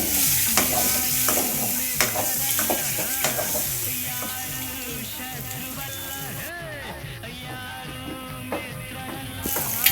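Eggs fry in hot oil with pulao spices in a pan, giving a steady sizzle beneath repeated scraping stirs that keep an even rhythm, close to the listener.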